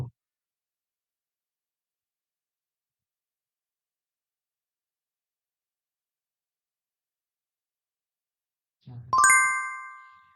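A bell ding sound effect from the Filmora video editor rings once, clear and bright with a ringing tail, near the end after a long silence.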